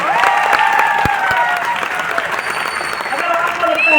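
A celebration crowd claps on request in a hall, a full round of hand-clapping laid over raised voices and cheering, with a few sharp single claps standing out early on.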